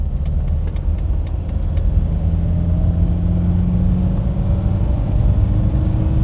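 A Ford Cortina Mk3 named Ruby cruising along the road, its engine giving a steady close rumbling drone with road noise, even and unbroken, no talking.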